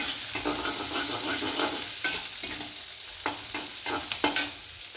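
Chopped onion fries in a spoonful of oil, a bright steady sizzle punctuated by repeated stirring scrapes and clinks against the pan, with no voices.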